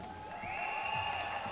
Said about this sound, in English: You can probably hear the cheer in the background from the crowd.